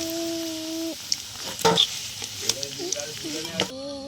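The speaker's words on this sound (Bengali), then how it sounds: "তো আলুগুলো ভালো করে একটু লাল লাল করে ভেজে নেব।" Boiled potatoes fry in hot oil until reddish for Kashmiri aloo dum, giving a steady soft sizzle with a few clinks and stirring scrapes. Faint tonal hums and voices sit in the background.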